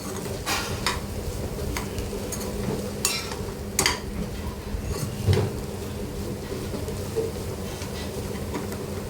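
A spatula scrapes and stirs egg bhurji with chopped onion, tomato and coriander in a pan, giving irregular clinks and scrapes over a soft, continuous sizzle, close and fairly quiet.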